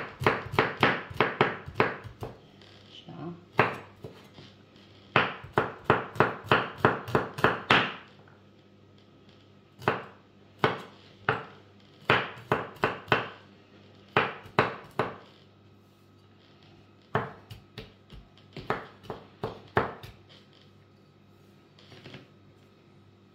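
A knife chops green beans against a cutting board in quick bursts of sharp taps, fast runs broken by short pauses and then slower spaced cuts, close and crisp with no talking.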